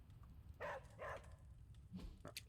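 A pet dog lets out a few short whimpering, yelping sounds while being petted indoors, two close bursts followed by a softer one, over a low steady hum.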